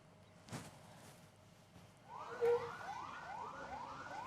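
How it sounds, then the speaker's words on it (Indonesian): Ambulance sirens wail outside SMP Negeri 3 in Kota Banjar, West Java, a faint repeating up-and-down sweep rising from a distant, quiet street background after a couple of soft thumps. "suara sirine ambulans terus terdengar dari SMP Negeri 3 Kota Banjar, Jawa Barat"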